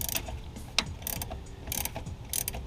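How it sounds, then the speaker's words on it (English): A hand ratchet works loose the 12mm nuts holding the master cylinder on a fifth-generation Chevrolet Camaro, giving short bursts of rapid clicking separated by pauses and a sharp metallic knock, close and moderately loud. "The last step to remove the master cylinder from the vehicle itself is to remove 2 12mm nuts that are holding it in place."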